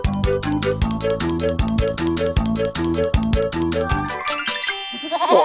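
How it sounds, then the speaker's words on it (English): Goats at a dairy farm bleat in a steady, evenly spaced rhythm set against a bright musical backing, close and loud, ending in a jumble of higher tones. "Oh, look, they're goats."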